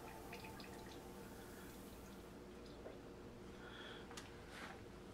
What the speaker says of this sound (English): it will drip out the bottom